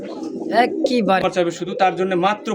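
A male pigeon coos repeatedly in a rhythmic, warbling series at close range, with people talking around it at a Bangladeshi pigeon market.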